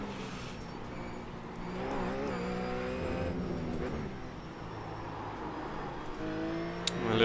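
A GT race car engine in the iRacing sim revs and shifts through rising and falling tones at moderate volume, with faint tire noise, no voices.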